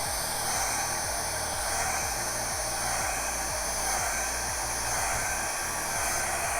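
A hair dryer roars steadily up close, blowing acrylic paint outward across a canvas during a reverse-flow paint pour, a continuous breathy whoosh with a low motor hum underneath.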